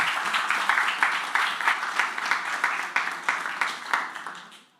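Audience applauding a presenter after a talk on mobile app store optimization, a dense crowd of clapping hands with rhythmic swells that fade out near the end, heard alone without speech.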